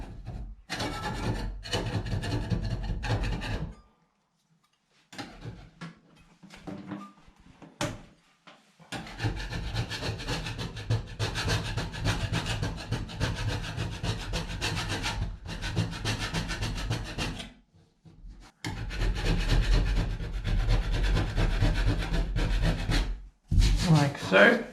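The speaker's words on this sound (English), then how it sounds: "we're just using a scraper to just" A hand scraper scrapes and cleans up a drywall surface in long stretches of close, gritty rasping strokes with a few short pauses.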